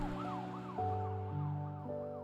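Ambulance and police sirens wail together, close and loud: one swooping up and down in a rapid rising-falling pattern while another holds steady two-tone notes that step between pitches.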